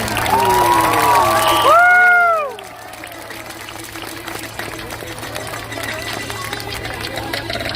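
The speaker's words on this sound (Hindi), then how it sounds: "हमारे पैरा कमांडोज के बेहतरीन एक्शन के लिए जोरदार तालियां" Crowd at an Indian Army para commandos display breaks into broad, sustained applause and cheering, following a few seconds of voice-like tones, then holding steady at moderate loudness to the end.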